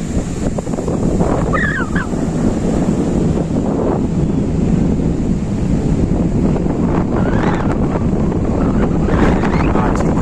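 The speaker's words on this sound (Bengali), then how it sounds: "হাওয়া কিন্তু প্রচুর পরিমাণে চলছে আর ঢেউ কিন্তু বিশাল রয়েছে" Strong wind buffets the microphone on a lonely beach across from Chilika Lake, with the broad wash of big waves roaring beneath it, loud and constant.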